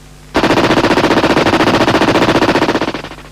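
A British Army GPMG general purpose machine gun fires one long, loud, continuous burst of rapid, evenly spaced shots lasting about three seconds before tailing off.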